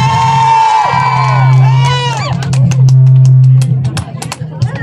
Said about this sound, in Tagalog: At palakpakan natin na may kasamang sigawan